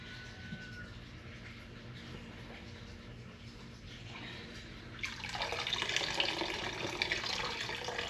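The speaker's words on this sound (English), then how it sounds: "the whey is going to drip out" Whey drains from cheese curds held in a cloth, for homemade Velveeta-style melting cheese. After a quiet stretch, a soft, steady trickle of liquid starts and keeps running close by.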